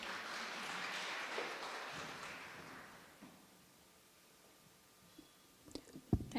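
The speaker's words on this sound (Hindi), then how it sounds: "आप सबकी पुरजोर तालियों में एल्डर रेसा प्लीज़।" A church congregation at a Friday prayer meeting applauds, a soft wash of clapping in the first three seconds fading away, followed by quiet room noise and a few knocks and rustles.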